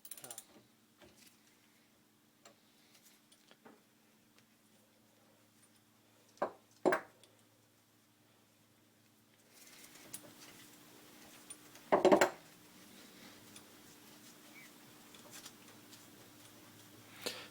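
Gears being taken off a lathe headstock during disassembly give a few sharp metallic clanks and clicks, spaced apart over a quiet workshop background with faint low hum.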